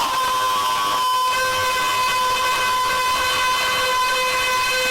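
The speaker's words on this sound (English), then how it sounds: "we present to you the sound of the old engines as the cars wait at the starting grid" Several old Formula racing car engines idling on a starting grid in a racing video game, a steady sustained tonal drone with layered pitched harmonics that holds evenly throughout with no talking.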